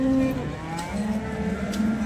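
A cow lows in a long, loud, close moo at a busy village cattle market, with faint crowd noise behind it.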